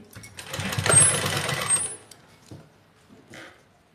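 A sewing machine runs a long basting stitch along the back neckline of a garment in one short, close whirring burst, followed by a few faint handling clicks.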